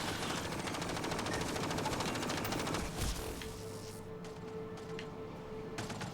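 Rapid automatic gunfire in the sci-fi shooter Mass Effect: Andromeda, a dense, loud burst of sustained shots for about three seconds that then thins to scattered shots over a low hum.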